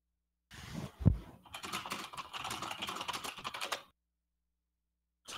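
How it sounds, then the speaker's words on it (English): Rapid keystrokes on a computer keyboard clatter steadily for a few seconds after a brief thump, then stop abruptly, with a short burst returning at the end. "The typing sound."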